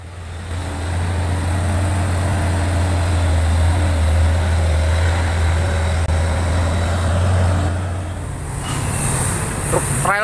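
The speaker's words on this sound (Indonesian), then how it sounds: "Truk trailer mendaki dan menurun tanjakan Bukit Kodok." A long trailer truck's engine drones steadily and loud while climbing the Bukit Kodok hill road, with general traffic around it; the heavy low rumble fades slightly near the end.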